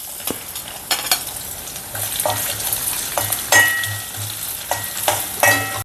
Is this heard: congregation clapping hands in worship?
no